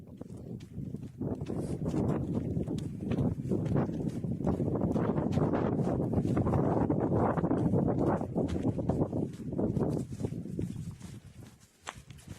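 Steady wind gusting through a damaged village near the frontline, a dense continuous rush with faint knocks and rustles, fading briefly near the end.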